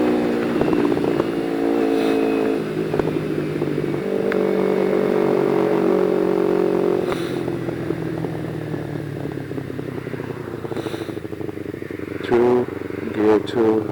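A motorcycle ridden in low gear along a snowy highway, its engine droning steadily near the microphone with gentle rises in pitch, continuous through the whole stretch.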